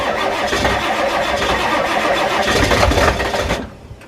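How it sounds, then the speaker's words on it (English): A Ford F350 diesel truck engine, unused for about a month, cranks and catches, running loud and rough before cutting off abruptly near the end. "I think a diesel sounds so good when it starts."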